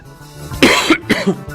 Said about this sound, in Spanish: puedo toser al aire porque estoy un poco resfriado